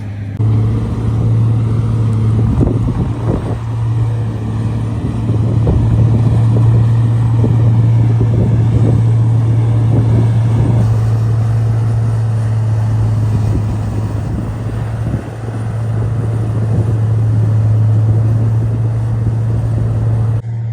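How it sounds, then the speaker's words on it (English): A Haybuster tub grinder on a farm arrives and runs, a loud steady low engine drone with a constant hum and rumbling mechanical texture throughout, close and continuous with no talk. "Hear that noise? That means the tub grinder's here."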